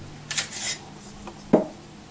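Metal parts of a Master Replicas lightsaber construction kit sliding off an aluminum tube blade, heard as a few soft scraping rubs followed by one sharper metallic clack, close and alone.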